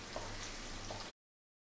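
Garlic sizzling gently in a pan over a low flame for lemon pickle, a faint steady frying crackle for about a second before cutting to silence.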